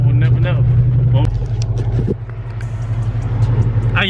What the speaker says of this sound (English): I've been just letting it sit idling for about 10-15 minutes now